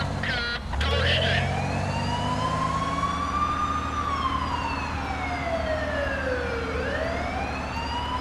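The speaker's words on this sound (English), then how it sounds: "I guess I'm supposed to use my siren." A police siren sounds in the SimCity 4 game, a long wailing tone sweeping slowly up and down, loud and continuous over engine rumble, with a brief horn-like blip at the start.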